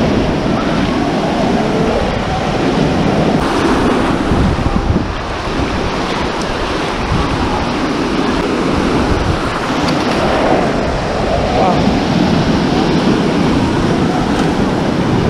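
Pacific Ocean waves at Manly Beach, Sydney, rush and wash continuously as a steady, loud surf roar, mixed with wind buffeting the microphone, with no clear breaks or voices.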